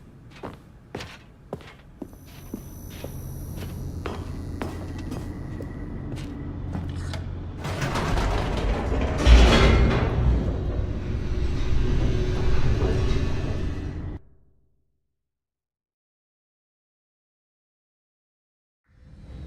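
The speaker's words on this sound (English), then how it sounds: "The elevator raced downward," An elevator in the video game The Stanley Parable descends, a low steady rumble building and holding for about fourteen seconds with thuds and clunks at the start, then cutting off abruptly into silence.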